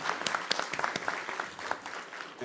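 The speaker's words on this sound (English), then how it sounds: "So please join me in giving all of our students a round of applause." Applause for college students at a Lone Star College board of trustees meeting, a smallish room of scattered, distinct hand claps with an uneven rhythm, moderately loud and without speech.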